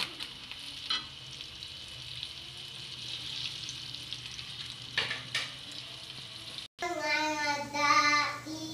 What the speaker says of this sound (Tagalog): Lagay na po sa mainit na mantika.